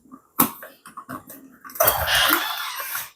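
Water pours into a well-used kettle. A few light clinks and taps give way to a steady splashing pour lasting over a second, close by and moderately loud.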